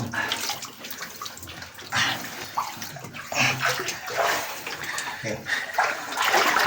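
Water from a mountain spring inside a cave on Mount Banahaw, Dolores, Quezon, rushes and splashes in loud, uneven surges, the flow echoing close by with shifting intensity.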